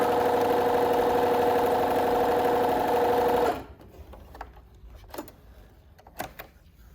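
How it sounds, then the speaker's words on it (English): Bernina B325 sewing machine stitching through eight layers of denim onto single organza: a loud, close, steady motor hum with rapid needle rhythm for about three and a half seconds, then stopping, followed by faint handling clicks. "I'm going to run off that 8 thicknesses of denim onto a single thickness of organza."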